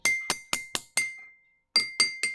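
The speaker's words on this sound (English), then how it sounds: "now what happens when we hit the one with some water in it?" A drinking glass partly filled with water is struck repeatedly, giving bright ringing clinks with a sustained pitched tone: five evenly spaced taps, a pause, then three more, each decaying quickly.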